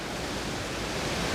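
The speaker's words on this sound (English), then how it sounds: "The waterfall, unbelievable." Steady broadband rush of a waterfall, seen from the opposite side, filling the whole moment with a dense, even roar at close range and no voices over it.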